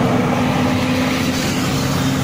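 Steady traffic on a city street as a motorcycle and a car pass close by, a continuous engine and tyre roar with a low droning hum and no speech.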